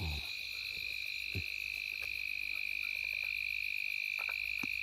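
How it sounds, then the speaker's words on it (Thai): Frogs croaking in a rice field at night: a dense, steady chorus of high trilling calls, broken by a few louder, closer croaks. "กบ"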